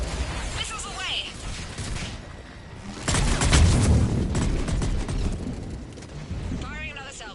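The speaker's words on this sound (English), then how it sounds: "Missiles are hot. Missiles away." Missile salvo launching in Mass Effect 3, a loud rushing blast swelling midway and trailing off, with voices talking over it.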